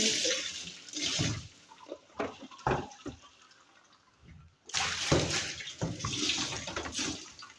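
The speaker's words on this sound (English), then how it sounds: "I'm just trying to rinse it off. I'm rinsing it off." Water from a hose or tap rinses out the drum of a washing machine being cleaned at home, splashing and running in irregular bursts with a short quiet gap midway.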